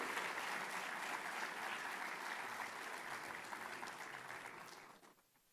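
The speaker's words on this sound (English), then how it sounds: "Let us seal this moment with a round of applause," Convocation crowd applause, a full even roar of many hands clapping that carries for several seconds before tapering and dropping off abruptly into quiet.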